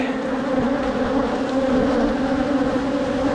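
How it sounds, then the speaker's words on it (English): Honeybees, drones among them, buzz in an open hive box, a loud, close, unbroken droning hum with a steady pitch lasting the whole stretch, no voices. "You see that bee? See that big bee over there? That's a drone."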